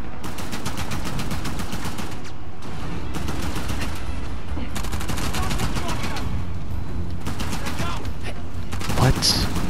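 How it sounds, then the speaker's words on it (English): Gunfire from a shootout against enemies in Uncharted: The Lost Legacy: dense, continuous bursts of rapid automatic shots fill the scene, with brief gaps between volleys and a heavier blast near the end. "Who's shooting at me?"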